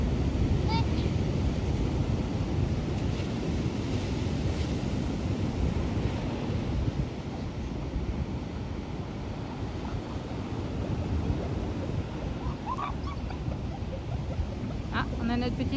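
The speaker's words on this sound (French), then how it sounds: "Il y a des sacrées vagues, hein." Heavy ocean surf rolling onto a beach, a loud continuous roar of breaking waves with wind buffeting the microphone, steady throughout.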